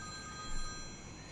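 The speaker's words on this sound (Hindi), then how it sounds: "घर की फोन की घंटी बजती है।" A house telephone rings at night, a faint electronic bell tone with steady pitched partials holding briefly over a quiet hiss.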